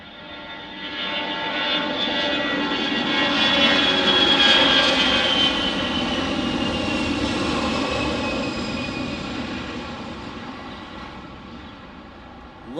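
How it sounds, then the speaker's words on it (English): An Airbus A320 jet departs the airport, its engine roar swelling to a peak and then slowly fading as it climbs away, a long continuous rumble with a whining edge and no talk over it. "Got another departure. It's like an Airbus A320."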